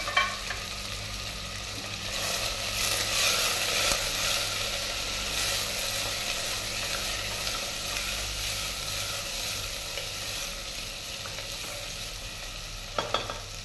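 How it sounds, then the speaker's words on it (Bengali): Soybean chunks frying in a pan give off a steady hiss and sizzle, with a few sharp clinks of stirring near the start and end, close and moderately loud, with no talking. "সয়াবিনটা একসাথে দিয়ে আমি নাড়াচাড়া করব।"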